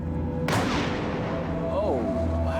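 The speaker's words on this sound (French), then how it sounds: "C'est la plus grosse explosion jusqu'ici." Dynamite detonates inside a concrete mixer truck with one sudden heavy boom, then a long rumbling decay as voices rise faintly in the background.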